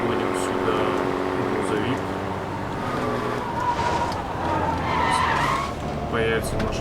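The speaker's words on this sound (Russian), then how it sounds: "Заодно мы сейчас еще загоним сюда грузовик." A truck in The Saboteur drives and skids, with an engine drone and a drawn-out tire squeal over loose ground, heard under ongoing speech.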